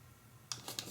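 Scissors snip a sheet of origami paper in three quick, close cuts after a moment of near silence.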